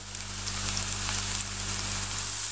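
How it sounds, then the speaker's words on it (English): Garlic and onion with salt and pepper fry over medium-high heat in a level pan, giving a steady, close sizzle with soft crackles that carries evenly throughout, no voices over it. "A little bit of salt and pepper, and we're just going to fry this off."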